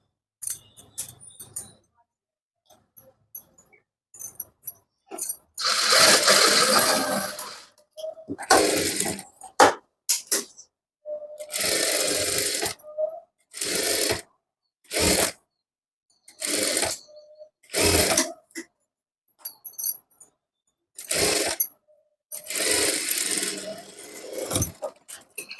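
A sewing machine stitches a blouse lining in a series of short, close bursts of whirring, each lasting a second or two and separated by brief quiet pauses, with a few small clicks and handling noises in between.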